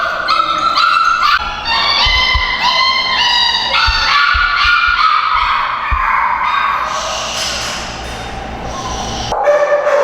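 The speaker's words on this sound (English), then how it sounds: "here we have another litter of puppies. They're a little bit older. They are pit mixes" A litter of older pit mix puppies barks, yips and whimpers together, loud and close, a busy overlapping chorus of high-pitched cries that carries through the whole stretch without a break.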